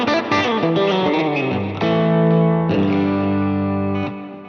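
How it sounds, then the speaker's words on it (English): Electric guitar lead tone through a Quad Cortex with delay, distorted sustained notes ringing out with echoing repeats and reverb, a few phrases of held bends and melodic lines, loud and close with no talking. "so this one has a bit more of a delay on it"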